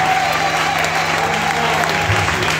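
A congregation at a church healing seminar applauds the Lord with loud, steady, dense clapping that fills the hall without a break.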